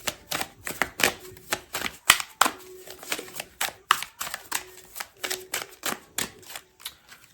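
Tarot cards shuffled by hand in a fortune-reading session, a quick series of crisp riffling snaps and slaps in an irregular rhythm, close and fairly loud with no talking.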